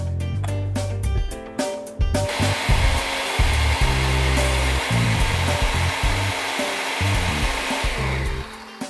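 A blender whirs loudly and continuously while blending a sauce of garlic and parmesan cheese, starting with a few short pulses before settling into a steady motor roar close up.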